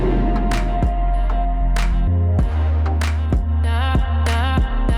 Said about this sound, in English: It's just like a constant vocal chop that just keeps going.